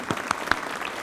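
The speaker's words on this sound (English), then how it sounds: "So a round of applause to Mid-Penn" A short burst of audience applause at a county access-to-justice community summit, steady clapping that lasts about a second.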